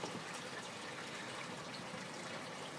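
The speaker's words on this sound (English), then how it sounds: "This is river-like water we're creating" River-like flowing water churns in a bioponics fish tank, a steady, full rushing wash that holds at an even level throughout with no voices.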